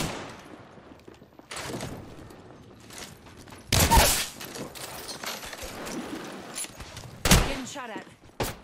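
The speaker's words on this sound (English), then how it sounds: "Getting shot at." A video game fires off bursts of gunfire, with several loud crackling volleys and a sharp crack near the middle, separated by quieter stretches. A player talks in between.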